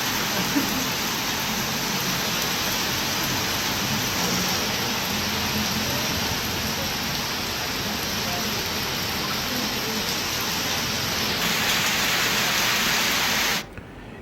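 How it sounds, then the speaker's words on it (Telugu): Heavy rain falls steadily and loud across the whole stretch, a dense unbroken roar with no distinct thunder claps, cutting off abruptly at the end. "ఉరుములు, మెరుపులతో కూడిన వర్షం కురుస్తుంది"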